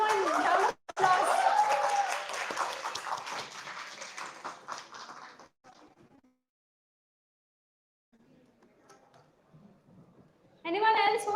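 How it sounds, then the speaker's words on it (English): An audience applauds at a tech workshop session, a burst of clapping that gradually thins out and fades to silence, with voices speaking near the end. "Everyone, round of applause"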